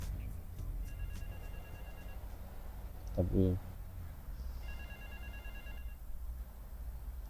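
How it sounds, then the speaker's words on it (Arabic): Telephone ringing in the video game GTA 3, heard as two separate bursts of steady electronic ring tones over game background noise, with a short loud thump between them and a voice speaking briefly. "أنا سامع صوت تليفون"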